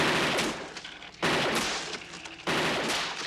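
Bursts of gunfire from RoboCop (1987) fired by Peter Weller's character, three loud rapid volleys with short pauses between, close and without talk.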